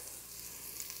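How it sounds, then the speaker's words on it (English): Bacon and onion render together in an Instant Pot, giving off a bright, even sizzle that hisses steadily and close up without pause for about a second. "we're gonna go ahead and render the bacon and the onion together"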